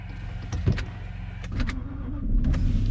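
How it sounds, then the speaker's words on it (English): A wrecked Jaguar S-Type R with a V8 engine idles with a low, steady rumble close by, broken by a few short clicks and knocks and a slight rise toward the end. "The rumble of a V8."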